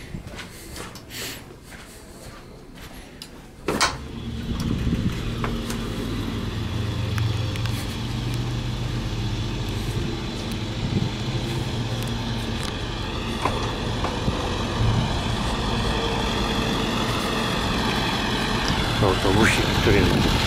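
A small bus engine idles steadily with a low rumble near a school trip to a radio telescope observatory. A sharp knock sounds early, then the engine hum continues under faint background voices.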